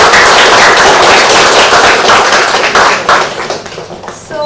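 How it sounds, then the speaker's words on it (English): Loud applause from an audience at an office celebration honoring employees for completing their service, dense rapid clapping that thins into scattered claps toward the end. "can we have a huge round of applause for them?"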